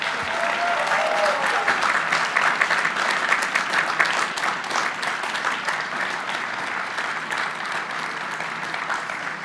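Sustained applause from a large outdoor commencement crowd at Bowdoin College thanking graduates' parents and families, a steady dense roar of clapping that holds at an even level throughout, with a faint voice briefly at the start.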